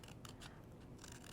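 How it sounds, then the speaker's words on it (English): Scissors snip through a cardboard toilet paper roll at close range in a steady, continuous rasping cut, with repeated crisp blade strokes and no talking. "So you want to take your toilet paper roll and your scissors and just cut."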